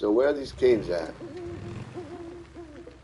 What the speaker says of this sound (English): That was an owl.